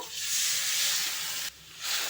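A loud hissing sizzle as water hits hot oil and frying spices, cumin and ginger paste, dropping briefly before surging again.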